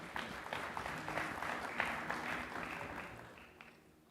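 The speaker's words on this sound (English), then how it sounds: "A round of applause for our chair." Audience applause fills a stage event at a film and TV festival awards gathering, steady dense clapping of moderate loudness that slowly fades toward the end.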